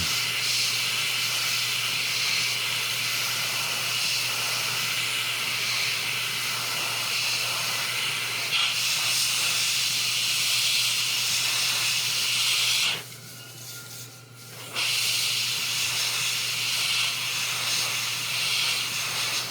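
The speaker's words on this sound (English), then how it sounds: "I take my airbrush and just shoot off to the side. I'm just getting rid of the dry tip, just kind of forcing some air through the airbrush" Airbrush blowing a steady stream of air off to the side to clear a dried paint tip, a continuous close hiss that runs almost the whole time with one brief break near the end.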